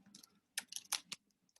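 Keys clacking on a computer keyboard as an Excel formula is entered, a few scattered taps and then a quicker cluster of clicks, close and fairly quiet with no voice.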